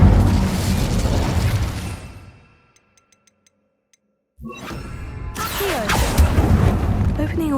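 A fire spell erupts in Hogwarts Legacy inside a tomb, with a burst of roaring flame and rumble that fades into near silence, followed by a sharp crackling fiery blast and sustained rushing noise.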